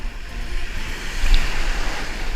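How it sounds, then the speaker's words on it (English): Ocean waves break and wash sideways along the shore at Madeira Beach, Florida, a steady, loud rushing surf with wind buffeting the microphone and no voices. "the waves are coming in sideways"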